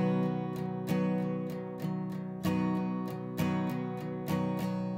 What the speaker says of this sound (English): So if you were to accent the first strum and then the fourth strum